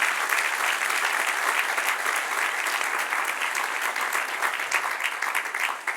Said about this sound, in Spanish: A darle un aplauso al Señor.